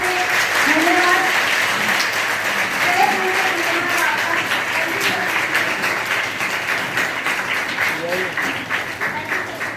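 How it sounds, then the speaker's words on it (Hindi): An assembled crowd at a charitable trust's scholarship award ceremony for meritorious students gives sustained, thick applause, loud and continuous for nearly ten seconds, with faint voices underneath. "एक बार तालियों की गड़गड़ाहट से धन्यवाद।"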